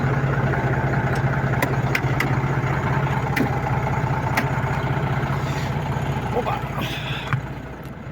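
A Renault Magnum truck sits idling with its air compressor pumping: a steady, close diesel rumble runs throughout, with sharp ticking clicks at regular intervals before it eases off slightly near the end.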